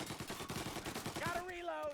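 Rapid automatic gunfire in the video game Mafia: Definitive Edition, a fast steady stream of close, loud shots, with a voice speaking over the end.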